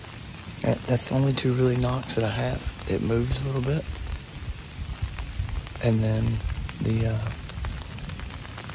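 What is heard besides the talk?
rain falling on a pop-up tree umbrella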